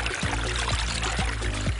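Carbonated water poured into a basin for a facial soak, a steady close pour with a low, gurgling stream and faint rhythmic splashes, heard on its own.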